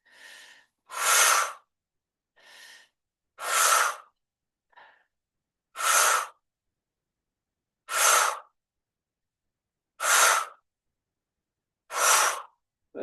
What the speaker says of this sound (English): I'm going to take 6 breaths here, in and out through the mouth.